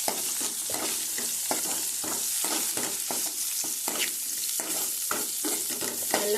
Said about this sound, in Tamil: நல்லா வதங்கட்டும் வெங்காயம்